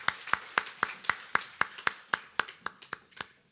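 Rhythmic unison clapping from a church congregation at a Sunday service, about fourteen evenly spaced claps in steady tempo, fairly close and sharp with no talk over them.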